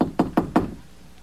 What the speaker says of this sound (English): there came a knock at my door